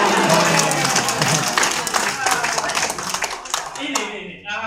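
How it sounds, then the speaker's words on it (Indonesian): An audience at a training session in Aceh claps steadily for several seconds, a dense patter of many hands indoors that thins toward the end, with voices talking over it. "Tepuk tangan dulu."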